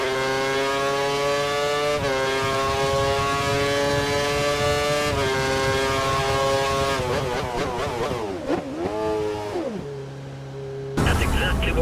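An F1 car engine in F1 2013 runs on a wet track, its steady high-pitched whine holding, then revving hard through rapid gear changes and dropping off as the car slows. A voice speaks over it.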